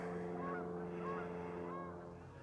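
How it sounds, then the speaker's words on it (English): Geese honking out by a lake near a dam at Watson Lake, a few repeated calls rising over a steady low engine-like drone, moderately distant, with no speech. "hear the geese out there."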